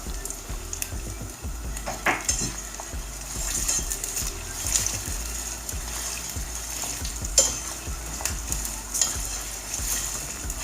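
Onions and tomato paste fry briskly in a pan for kısır, a steady close sizzle broken by repeated scrapes and stirs of a utensil against the pan, with no talking.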